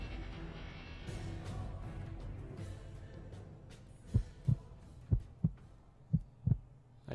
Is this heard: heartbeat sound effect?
yes